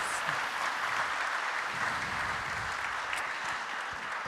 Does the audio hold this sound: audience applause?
yes